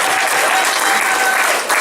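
A comedy club crowd at Mohegan Sun breaks into loud, dense applause in agreement with the comedian, a continuous wash of many hands clapping with a murmur of crowd noise underneath.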